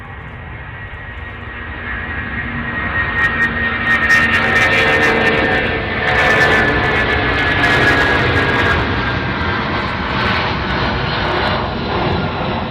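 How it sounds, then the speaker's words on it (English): A Boeing 747-400 departing O'Hare gives a loud, sustained jet-engine roar that builds and then holds steady across the whole stretch, with no voices over it. "Oh, listen to those engines roar."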